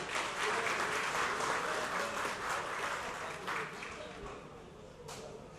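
Dense crowd applause fills a formal council ceremony honoring award recipients, loud and steady at first and easing slightly toward the end, with a voice faintly present underneath.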